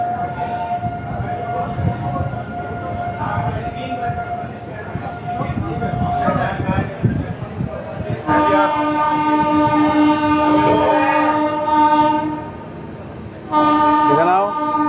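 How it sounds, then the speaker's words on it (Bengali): The Amrit Bharat Express from Sealdah to Banaras departs Santragachi Junction. Rumbling wheels and wagons give way to long, loud horn blasts, with a brief pause before a final blast, and people talk on the crowded platform. "আমাদের ট্রেন ছাড়ছে সাঁতরাগাছি জাংশন।"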